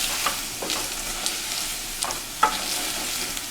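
Shrimp shells cooking in a stock pot for Tom Yum Goong soup and being stirred, a faint sizzle broken by a few brief scraping clinks from the spoon, close by with no talking.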